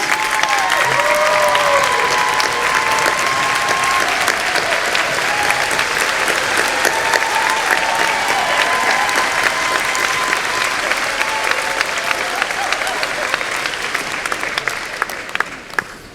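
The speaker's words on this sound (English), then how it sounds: "stand up so that our students can give you a round of applause." Sustained applause from a commencement crowd honouring those who supported the students, steady and dense for about fifteen seconds before tapering off at the end.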